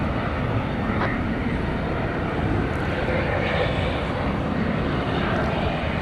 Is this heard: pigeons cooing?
no